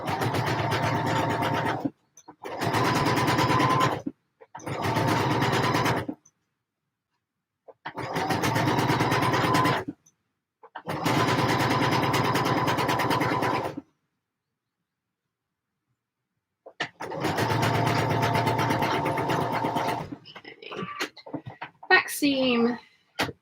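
A sewing machine stitches a skirt seam in six separate bursts of steady whirring, each a second or few long, with silent pauses between them, followed by soft handling clatter at the end.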